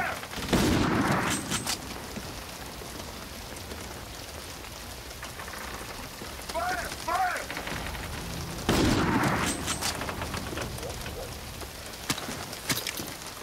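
Bursts of rapid gunfire in Call of Duty: Infinite Warfare crackle through a steady hiss of rain, with louder volleys near the start and again later amid faint game effects.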